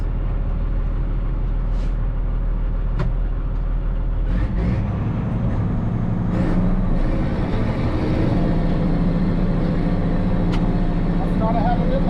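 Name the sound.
tractor driving during tillage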